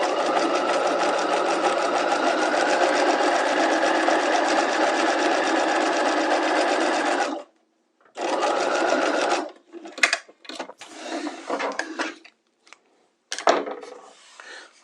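A sewing machine stitches a row of gathering stitches at a steady, fast whirring rhythm, stops briefly, runs another short burst, then gives way to scattered handling clicks and rustles.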